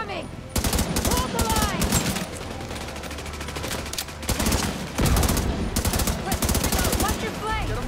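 Heavy gunfire at incoming hostiles in The Division 2, with rapid automatic bursts and overlapping shots rattling almost continuously, loud and close, while a voice talks over the firefight.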